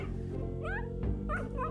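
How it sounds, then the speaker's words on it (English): A cat gives two short meows in quick succession over a steady background hum. "They purr and meow, they're so adorable and they're really chill."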